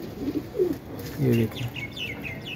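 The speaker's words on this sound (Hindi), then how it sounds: "किसी का जोड़ों वाला कबूतर निकला" A pigeon gives several soft, low coos in short rising phrases nearby, with a few faint higher chirps, while someone speaks briefly.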